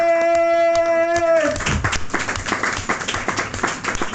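Club audience bursts into applause after a held musical tone, a dense, steady wash of many hands clapping close and loud for several seconds.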